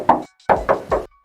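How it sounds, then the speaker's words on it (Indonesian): A knuckle raps a Honda Brio's metal hood four times at close range: one knock, a short pause, then three evenly spaced hollow knocks. "coba aku tes ketok"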